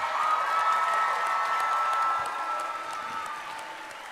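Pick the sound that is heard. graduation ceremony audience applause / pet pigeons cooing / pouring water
graduation ceremony audience applause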